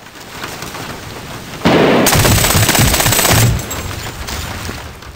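Carbine fire in the Medal of Honor Warfighter campaign: a loud, dense rattle of rapid shots bursts out mid-way and holds for a couple of seconds over a rumbling battlefield backdrop, then eases back to a softer roar.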